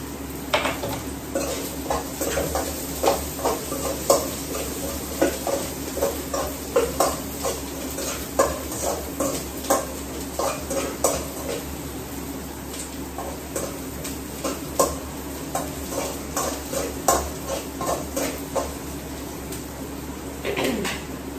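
Green chillies frying in a pan after eggs have browned, a constant sizzle beneath repeated rhythmic scrapes and clinks of a spoon stirring against metal, close and steady, with no talking.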